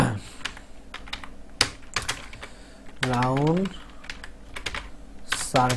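Someone types a search on a computer keyboard, tapping in short irregular bursts. A person speaks briefly over the keystrokes.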